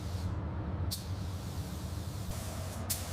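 Rosso Mugello red paint is sprayed onto a Ferrari 296 GT3 in quiet, steady hissing bursts, with two sharp air releases standing out over a low background hum.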